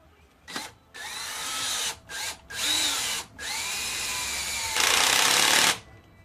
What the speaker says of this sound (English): there's my drill